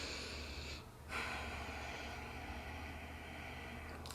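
Deep breaths in and out during a guided meditation, slow airy inhalations and exhalations close to the microphone over a steady low hiss, with a brief pause near the start.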